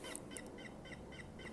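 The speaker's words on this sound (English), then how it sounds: "now it just sounds like a bat chirping" Short repeated high-pitched chirps like a bat's call, played from a coffin-shaped tarot deck box, come in an even rhythm of about six bursts over a quiet background.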